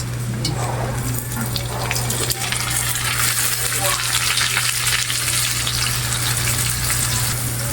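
Chopped onions fry in a hot pan with a steady, loud sizzle and occasional crackles, over a constant low electrical hum.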